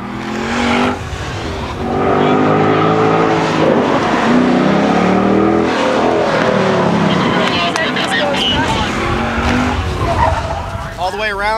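AMG race cars lapping Laguna Seca during a driving academy competition, engines roaring loudly and continuously with tire squeal and rising revs, a voice talking over the track noise throughout.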